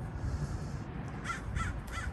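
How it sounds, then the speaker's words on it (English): Crows caw several times in a garden in Southern California, three harsh calls in a row at moderate distance over a low, steady outdoor rumble. "and the birds in the background"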